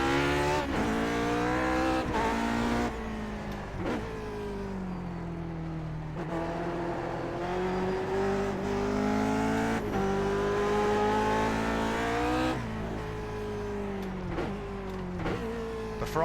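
A Lotus 49 race car engine in iRacing revs hard through two gears to around 8,000 rpm, a loud, steady, buzzing howl that climbs in pitch, drops sharply at each gear change, and then climbs again.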